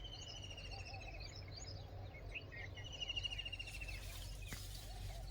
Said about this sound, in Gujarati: સવાર સવારમાં જો ચકલા કેવા ઉડી રહ્યા છે।